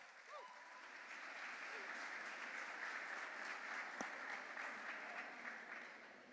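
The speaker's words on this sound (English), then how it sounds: "give her a big round of applause" Audience applause at an evening charity gala, steady broadband clapping from a crowd sustained throughout, moderately distant and even in level, with brief voices faintly underneath.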